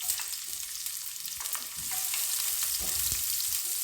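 Onion frying in a pan for caldereta, a loud, steady sizzle close by, with a few scrapes of stirring mixed in and the frying swelling slightly midway.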